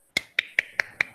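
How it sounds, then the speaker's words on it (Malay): Five sharp hand claps ring out in an even, quick rhythm. They are crisp and close, with short decays between them and no talk underneath. "Semua pakai tepuk tangan lah."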